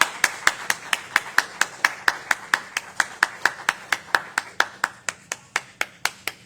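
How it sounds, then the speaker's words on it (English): A church congregation claps in unison, sharp regular claps at a brisk, even tempo sounding close and clear, continuing for several seconds with no voices. "Clap on for it."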